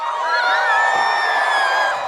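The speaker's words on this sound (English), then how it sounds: "You hear all the oohs and ahs." A crowd of residents at a park Christmas tree lighting ceremony lets out sustained oohs and ahs and cheers, loud and continuous over about two seconds.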